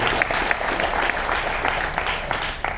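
Audience at a business plan meeting gives loud, continuous applause, with dense clapping from a crowd close by throughout.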